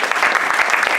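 Audience applause for a volunteer at a magic competition stage show, dense steady clapping from a live crowd filling the short moment without a break.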